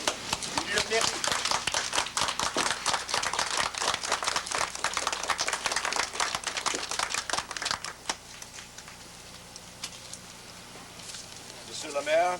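Outdoor audience applause at a French ceremony on a battlefield tour, dense clapping for about eight seconds that then thins into scattered claps and crowd murmur, with voices underneath.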